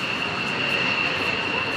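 Airplane preparing to take off, heard as a steady jet engine whine with a sustained high tone over broad cabin noise, continuous and fairly loud.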